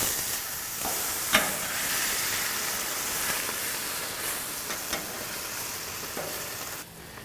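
A burger patty fries on a hot grill with a steady broadband sizzle, broken by a few sharp crackles and spatula scrapes, close and continuous with no talking.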